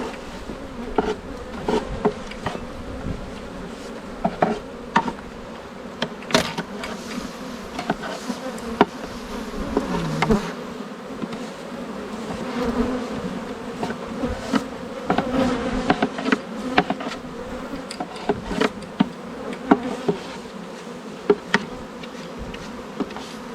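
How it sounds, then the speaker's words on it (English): Dense, agitated buzzing of many honeybees swarms continuously and close throughout, with irregular loud surges as angry bees are brushed off the comb during hive work on an afternoon beekeeping visit. "Good way to make bees mad."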